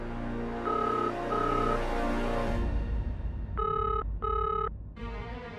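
A telephone rings in repeated bursts of electronic trills, with a steady background hum and no one answering.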